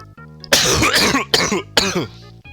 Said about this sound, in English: And that's my cough.